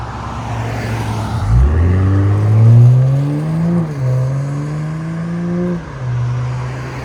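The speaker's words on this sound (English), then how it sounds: "BMW M340i inline 6, which really surprised me" A 2025 BMW M340i with its 3.0L turbocharged inline-six in sport mode, rising from a low idle into a smooth, loud rev whose engine and exhaust pitch climbs and holds before dropping back to a steady idle, close by.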